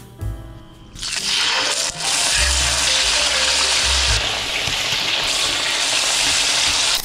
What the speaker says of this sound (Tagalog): Okay, done ko na i-fry ang pork.